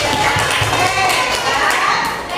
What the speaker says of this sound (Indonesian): Beri tepuk tangan apresiasi untuk kalian